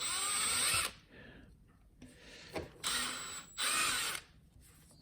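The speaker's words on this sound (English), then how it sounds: "I just am sticking it in my drill" A power drill spinning a cleaning tool on a clock movement whirs in short, loud high-pitched bursts, stopping and starting several times with quiet gaps between.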